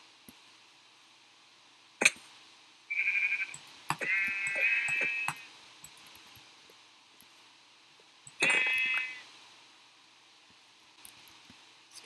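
A sheep in the Minecraft video game bleats three times in short wavering calls, close and clear, with sharp clicks and game sounds scattered between.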